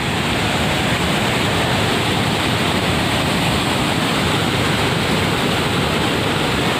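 Hogenakkal waterfall on the Karnataka–Tamil Nadu border roaring as a loud, steady, broadband rush of falling water that stays constant and unbroken with no voices.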